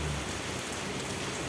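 Steady rain falls on a sailboat moored at sea off Cape Verde during the summer rainy season, a dense, even hiss of drops with no talking.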